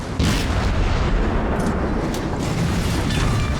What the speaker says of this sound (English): killing a big ship like a battleship with an HE round from a destroyer gun